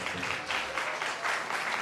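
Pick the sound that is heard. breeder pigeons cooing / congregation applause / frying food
congregation applause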